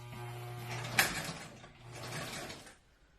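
A sewing machine stitching a centered zipper, two short bursts of whirring mechanical stitching separated by a brief pause, close and fairly quiet, with a faint motor hum at the start.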